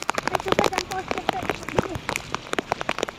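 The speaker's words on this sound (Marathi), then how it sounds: "इथं पाऊस पण पडायला आलेला आहे" Rain patters onto a surface in irregular drips and taps, with voices talking over it nearby.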